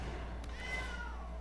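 A short synthetic cat meow rings out as a cat card is played in a digital card game, a single soft rising-and-falling cry over a steady low hum.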